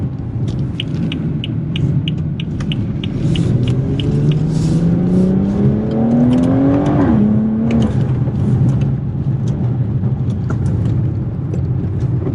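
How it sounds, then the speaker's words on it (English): A BMW 340i driving on a road: steady engine rumble and tyre noise with a rising rev sweep that climbs, drops at a gear change, then settles into a constant cruising drone, close and loud with no talking. "I'm gonna do a little bit of driving"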